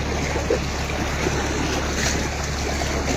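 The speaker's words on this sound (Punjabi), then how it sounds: "ਪਾਣੀ ਦਾ ਵਹਾਅ ਬਹੁਤ ਤੇਜ਼ ਆ" Fast-flowing floodwater rushes in a continuous, dense roar with a steady low hum beneath, unvarying and fairly loud throughout, with no voices.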